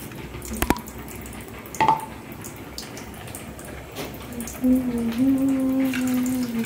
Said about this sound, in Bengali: তো এখন হচ্ছে এটাকে একটুখানি জল দিয়ে ভিজিয়ে রেখে দেবো